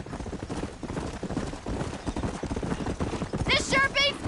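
Horse hooves gallop in the Red Dead Redemption video game, a steady rapid clip-clop under music and game voices, with a horse whinny breaking through near the end.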